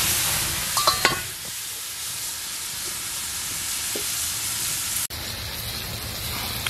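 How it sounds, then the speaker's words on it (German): Roquefort cheese melting with a splash of whisky in a covered pan, giving a steady close sizzle and hiss with a few brief clinks near the start and a short break before the frying resumes. "wir geben hier einen Schluck Whisky drauf, Deckel drauf und den Käse schön schmelzen lassen"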